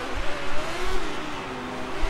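A racing video game car engine roars loudly and steadily with a brief low thump or two, race cars driving close by with no voices.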